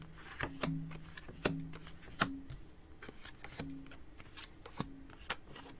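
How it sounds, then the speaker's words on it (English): Tarot cards being shuffled by hand, a series of crisp riffling snaps and slaps at an uneven rhythm, close and fairly quiet, with no talk. "So I've been shuffling these cards a while"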